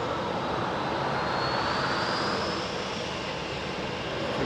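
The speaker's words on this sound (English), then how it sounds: "Nice KLM 737." A KLM Boeing 737 climbs away after takeoff from London Heathrow, a dense, loud jet roar holding steady with a rising engine whine, no voices.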